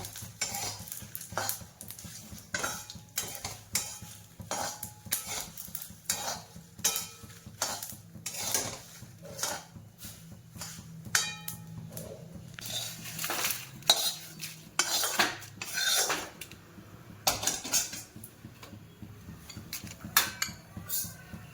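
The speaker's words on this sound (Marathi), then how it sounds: "चांगलं खरपूस भाजायचं याला." Whole spices for a Maharashtrian kala masala dry-roasting in a pan, with a spoon scraping and clinking steadily against the metal over a faint sizzle, close up and continuous, without any talk.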